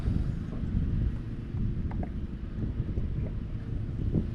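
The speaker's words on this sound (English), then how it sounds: "The wind's picked up quite a bit." Wind buffeting and rumbling in gusts on a lake while out in a fishing boat, low and constant, with faint water sloshing beneath.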